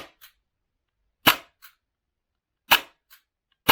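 An upgraded AAP-01 airsoft pistol fires on semi-auto, four sharp, snappy shots spaced about a second and a half apart, each followed by a faint click, in a quiet room.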